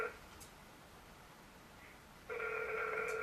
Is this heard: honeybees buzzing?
no